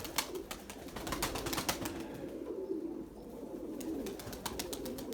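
Purebred Erzurum white pigeons coo softly and steadily in a low, continuous murmur, with sharp ticking and tapping sounds scattered throughout and no talk.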